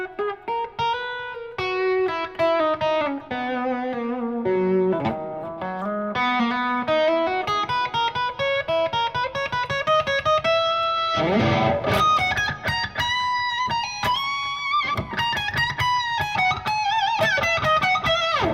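Distorted electric guitar plays a winding melodic line of single notes and bends in a musical mode, with a brief strummed chord partway through, up close and continuous.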